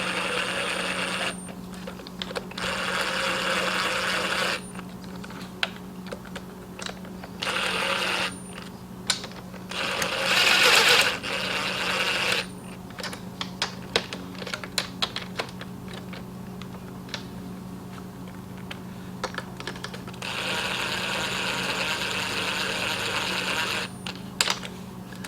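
Bolts on a KTM 65 dirt bike clutch are snugged down, with bursts of rapid ratcheting clicks separated by pauses and occasional single metallic taps, close and fairly loud, with no talking.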